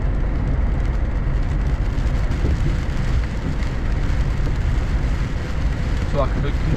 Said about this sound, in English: I did say we'll get a downpour, and that's exactly what we're getting